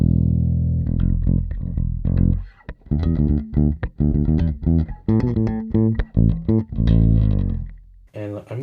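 Electric bass riff on a dual-humbucker Stingray-style bass with the Stingray pickup position selected, deep, rounded low end, plucked notes in a quick rhythmic run, loud and up front, ending with a short pause.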